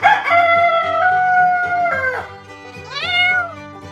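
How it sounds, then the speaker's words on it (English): A farm cat lets out two clear meows, the first long and drawn out, the second shorter and rising, close and loud over soft background music. "A cat."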